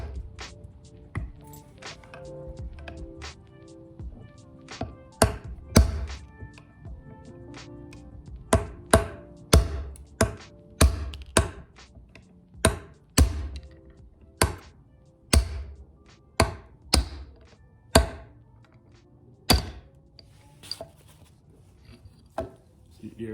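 Sharp metallic knocks of a socket being hammered to drive a piston pin out of a 2005 Honda Odyssey engine piston, some twenty irregular blows close by, growing more frequent toward the middle.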